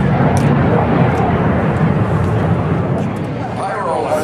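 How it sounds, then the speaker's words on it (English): A Lockheed T-33 jet takes off at the 2012 Rocky Mountain Air Show, its engine a loud, broad roar that holds steady and eases slightly toward the end, with crowd and announcer talk mixed underneath. "The T-33 just taking off is Ron Halliday."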